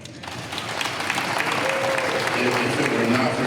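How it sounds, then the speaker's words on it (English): Audience applause at a university football media day: a continuous wash of clapping from a crowd, rising quickly and holding steady throughout. "Applause for that."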